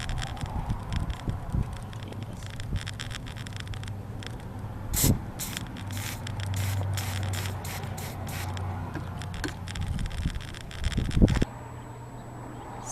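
Aerosol penetrant sprays onto a stubborn throttle body bolt on a 1997 Saturn SC2 in a series of short hissing bursts, close by, with some scraping and handling noise between them.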